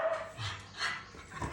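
Dog whimpering and giving short soft barks and yips nearby, a few separate bursts over about a second and a half.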